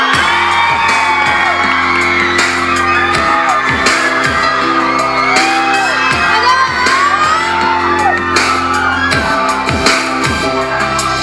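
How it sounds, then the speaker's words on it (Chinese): Concert audience screaming and cheering at a show: a dense, loud wall of high-pitched shrieks and whoops running continuously, with deep rhythmic thumps of live music underneath. "尖叫声"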